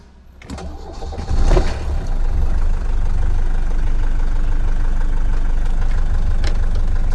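A Mercedes W115 220D diesel cranks and catches, then settles into a loud, steady clattering idle close by, its knocking rumble continuing without pause.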